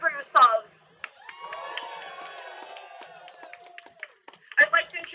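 A crowd at a Los Angeles war protest rally cheers and applauds, with sustained whoops and shouts in the middle and a speaker's voice at the start and end.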